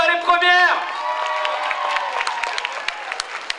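At Paris Manga 2009, during an individual cosplay contest, an audience claps and cheers for a cosplayer. A voice is briefly heard at the start, then many hands clap steadily with scattered sharp claps standing out.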